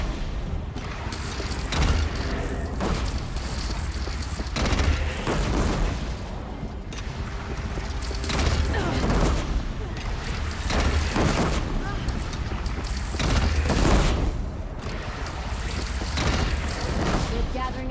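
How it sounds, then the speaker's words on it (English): Cannon fire and gunfire crash through a battle in Horizon Zero Dawn, repeated heavy booms and bursts over a constant loud din of combat, with shouting voices mixed in. "They only have one cannon!"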